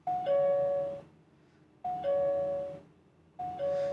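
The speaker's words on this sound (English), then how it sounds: "Going to the doorbell, ringtone." An EZVIZ CP4 smart peephole doorbell plays a two-tone chime three times in a steady rhythm, clear and close, each tone falling from higher to lower pitch.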